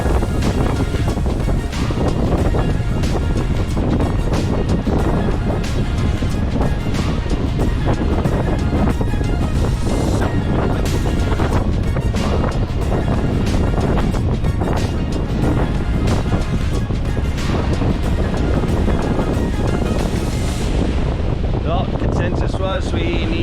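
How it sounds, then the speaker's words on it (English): Lagoon 56 catamaran motor sailing under one engine, heavy continuous wind buffeting and rushing water dominate throughout, with the motor drone buried beneath the loud, steady gusts. "we're trying to motor sail with one motor and then turn into the wind a bit"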